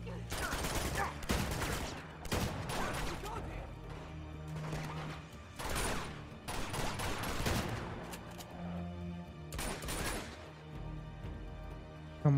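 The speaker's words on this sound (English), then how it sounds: "Shotgun is OP." Shotgun blasts and heavy gunfire ring out in the video game Uncharted 2, Nathan Drake's Collection on PS4, loud bursts coming in irregular clusters with crashing impacts between them.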